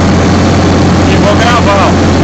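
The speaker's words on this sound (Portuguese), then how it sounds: "Digamos que eu vou trabalhar em 1800 RPM, eu vou acelerar até 1800" A Massey Ferguson 4292 tractor's diesel engine runs loud and close with a steady low drone, rising slightly in pitch as it is revved toward 1800 RPM while someone speaks briefly over it.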